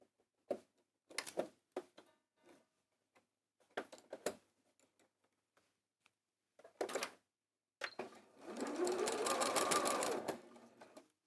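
A sewing machine stitches a fabric bag made from fat quarters, running in several short bursts and then one longer steady whir. The sound is close but quiet, with brief gaps between the runs.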